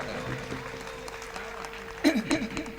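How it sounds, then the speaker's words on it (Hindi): Audience applause at a poetry mushaira, moderate clapping from the gathering that swells into louder bursts toward the end, with a voice and some tonal sound underneath. "तालियां बजाइए एक बार।"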